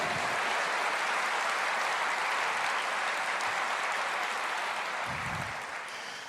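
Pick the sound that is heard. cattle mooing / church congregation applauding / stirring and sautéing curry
church congregation applauding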